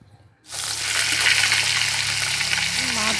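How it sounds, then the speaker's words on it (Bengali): Loud, steady hiss of small fish frying in hot oil in a kadai begins abruptly after a brief quiet moment and continues evenly with a constant crackling sizzle. "কড়াই গরম হয়ে গেছে তেল দিয়ে মাছগুলোকে ভেজে নেব"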